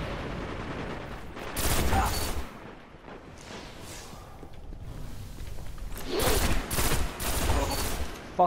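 Thorn, a poison hand cannon in Destiny, fires in bursts over game ambience, with loud clusters of shots near the start and again toward the end.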